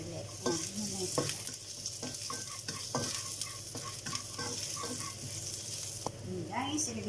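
Ginger and garlic frying in a pan for a stir-fry of prawns and celery, with a continuous close sizzle and a few utensil knocks and scrapes, with no voices.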